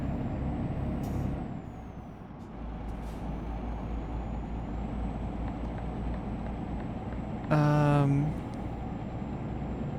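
A heavy cargo truck rolls downhill in Euro Truck Simulator 2, a steady low engine drone running throughout, broken near the end by a short, loud air brake hiss.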